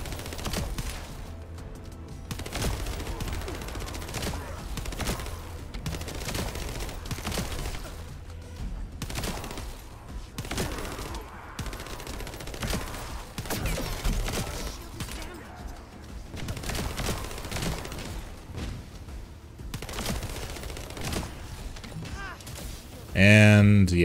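Rapid bursts of gunfire from the looter-shooter The First Descendant, close and steady across the whole stretch, with a sharp louder blast at the very end.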